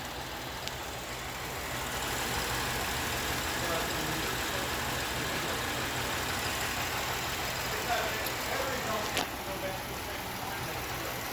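Rough-running Pontiac Grand Prix engine idling with a steady, dense mechanical drone, heard close and continuous, with a couple of faint ticks and no clear talking.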